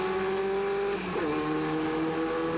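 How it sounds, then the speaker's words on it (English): Production cars racing in 1988 roar steadily at high speed, their pitch shifting as one car passes close by, with a continuous loud engine drone. "Dave Wallace comes back past him as they go into clearways and out onto Brabham Straight"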